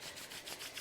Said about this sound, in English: So we'll rub the hands together.